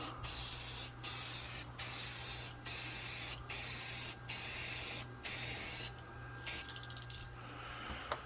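Spray paint from an aerosol can laid down in light passes over a canvas, seven steady hissing bursts of about a second each separated by short pauses, close and fairly loud, ending with quieter rattling and a faint final spurt.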